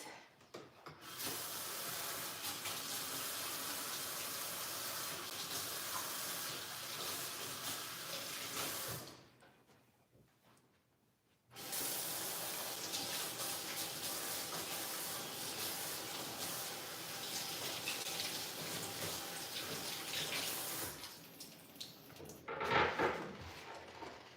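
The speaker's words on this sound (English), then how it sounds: "Let me step over and wash my hands" Hands are washed under a running tap, a steady close hiss of water that stops for about two seconds, then runs again and ends with some splashing near the sink.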